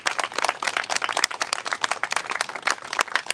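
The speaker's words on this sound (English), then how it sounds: "I want to call for a round of applause for Jennifer." Audience at an annual fast and vigil gathering on the death penalty gives a round of applause for an honoree: brisk, dense clapping from many hands, steady and fairly close, with no talk over it.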